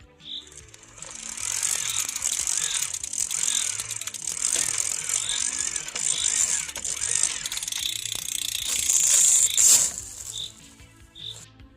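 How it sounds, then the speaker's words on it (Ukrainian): Electric assist motor of a Cannondale Trail Neo e-bike running with the rear wheel lifted off the ground, a steady high whir with rhythmic ticking pulses, close and fairly quiet, ending in a brief louder surge. "зараз я припіднімлю колесо і ви послухаєте цей звук електромоторчика"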